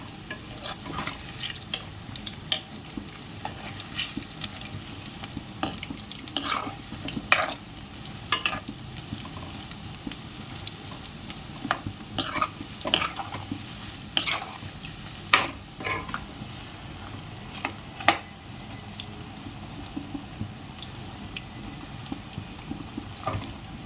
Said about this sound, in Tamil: இதெல்லாம் எண்ணெயில் போட்டுட்டோம். இப்போ வெந்துட்டுருக்கு.